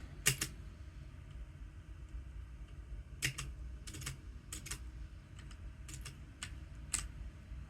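Scattered bursts of keyboard typing, a few quick keystrokes at a time with pauses between, close and fairly quiet over a low background hum.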